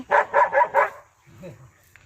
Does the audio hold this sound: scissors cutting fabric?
no